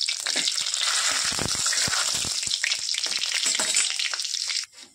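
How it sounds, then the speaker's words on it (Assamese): Fenugreek seeds and bay leaves crackle and sizzle loudly in hot mustard oil in a kitchen wok, a steady hiss dotted with sharp pops that ends suddenly near the close. "এয়া মিঠাতেল দি দিলোঁ, তেলটো গৰম হৈ গৈছে। মই ইয়াতে মিঠি গুটি আৰু তেজপাত দি দিছোঁ।"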